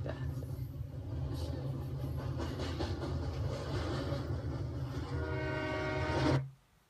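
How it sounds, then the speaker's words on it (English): A train rumbles and clatters, swelling steadily louder with a horn-like tone rising near the end before cutting off suddenly. "The train approaching, getting louder and louder."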